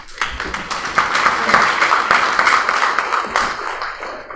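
A lecture audience applauds in a university class on the philosophy of AI, with close, uneven hand claps blending into a fairly loud, sustained patter.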